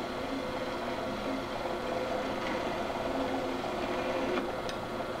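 A saw blade cuts through metal with coolant applied, a steady, even mechanical whine and hum running unbroken and fairly close, with a few faint higher ticks near the end and no talking.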